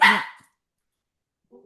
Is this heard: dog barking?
yes